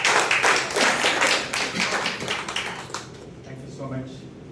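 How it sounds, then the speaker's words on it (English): Scattered clapping from a small group, fading out as a voice speaks over it. "all of them deserve a big round of applause."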